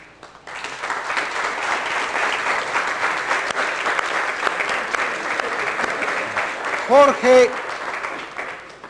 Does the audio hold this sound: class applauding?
yes